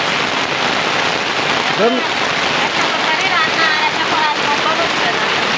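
Steady rain falling on a surface outdoors during cooking, a dense continuous hiss of drops throughout, with a few faint bird chirps and voices underneath.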